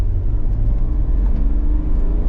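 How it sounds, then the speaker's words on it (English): INEOS Grenadier 4x4 engine running smoothly while the vehicle is driving, a steady low rumble with no talk over it. "It's a very, very smooth engine."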